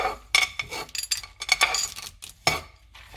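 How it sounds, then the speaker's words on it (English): Nuts tipped into a pan of roasted oats, a quick run of small hard clinks and rattles against the metal, close and crisp, then settling. "Now we'll just put all the nuts."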